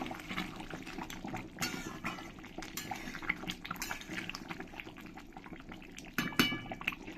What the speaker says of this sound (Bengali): গরম মশলার গুঁড়োটা দিয়ে আমি ভালো করে ঝোলের সঙ্গে মিশিয়ে নেবো